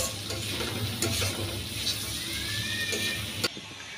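Noodles fry in a pan with a dense, continuous sizzle and scraping stir strokes, close and steady until an abrupt cut near the end.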